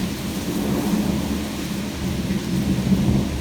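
A severe thunderstorm with 40 mph wind and penny-size hail brings steady heavy rain and a low rumble of thunder, a dense continuous wash of sound with no voices.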